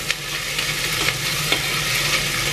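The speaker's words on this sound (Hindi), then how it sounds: "डाल देंगे लहसुन अदरक" Garlic and ginger dropped into hot oil for a sweet pumpkin curry, giving a steady, loud, close sizzle and frying hiss with faint stirring scrapes, no voices.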